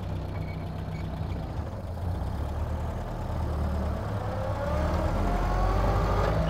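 A 1929 Ford Model A car drives along with a low, rough engine rumble that swells in loudness toward the end as it pulls and shifts, with no talking.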